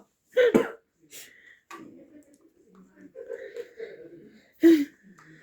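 A few short, sharp coughs break out between bits of quiet talking, one burst early and another near the end.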